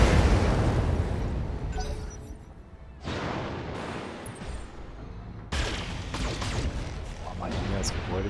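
A mech in the battle game Battletech is blown up amid loud booming explosions, with a rumbling blast at the start and fresh sharp bursts around three and five and a half seconds, and a voice talking underneath.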